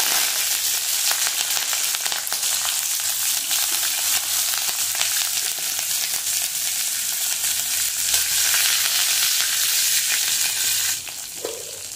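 Sliced green chillies fry in hot oil in a pan, giving a continuous bright sizzle with light stirring scrapes, steady and close, easing slightly near the end.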